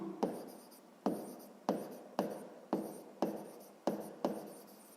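Handwriting strokes scratch out a sixth-grade math solution in a steady rhythm of about eight short, close strokes, each tapering off, quiet and without speech.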